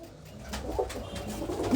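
A female frilled pigeon coos softly nearby, a brief low murmuring call that swells slightly toward the end.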